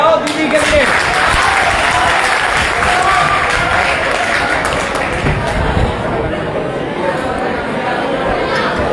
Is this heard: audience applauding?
yes